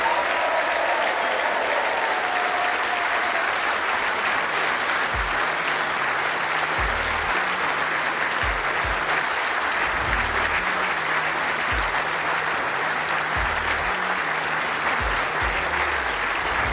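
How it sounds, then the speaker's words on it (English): A large crowd at the World Indoor Bowls Championship final applauds the runner-up, a loud, sustained roar of clapping that never lets up, with a low rumbling hum running underneath. "Please keep that applause going, ladies and gents, for your runner-up"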